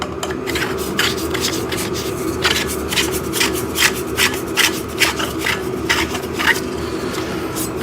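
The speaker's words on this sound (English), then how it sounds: "I love how it like easily screws together." Metal poles of a T-shape adjustable backdrop stand being screwed together, giving repeated scraping, rubbing twists in an irregular rhythm, close and fairly loud, with no talking.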